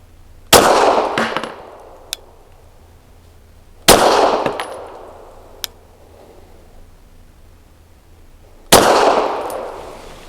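A SAR 9C Gen 3 compact pistol fires three separate sharp, loud shots of 150 grain Syntech Action Pistol Gamer ammunition, spaced a few seconds apart. Each report rings out briefly, and a small metallic ping follows the first two.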